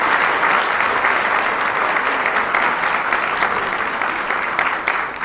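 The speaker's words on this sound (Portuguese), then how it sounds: "E uma salva de palmas especial para o nosso gerente aqui, que criou todos os espetáculos" A theater audience at a SESI tango show gives loud, sustained applause, a dense, even wash of many hands clapping that carries on for several seconds without any talk.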